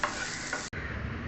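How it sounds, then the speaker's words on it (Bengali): Potatoes and green chillies frying with spices in a pan, with a steady close sizzle and scraping stirs throughout, and a brief break in the middle. "দিয়ে মশলার সঙ্গে ভাজা ভাজা করব।"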